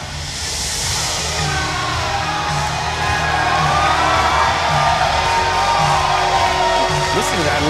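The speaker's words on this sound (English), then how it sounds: "Listen to that love that Janela gets from this crowd." Wrestling crowd at a World Series Wrestling show in Sydney cheering loudly and steadily, a dense roar of many voices with whoops and shouts, sustained throughout without letup.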